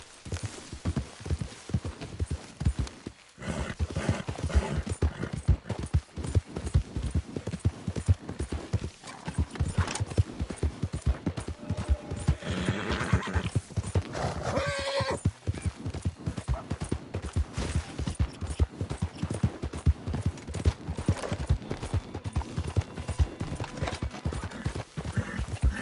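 A horse gallops in a PS4 video game with steady, close hoofbeats clip-clopping throughout, plus a brief whinny, under a faint game backdrop.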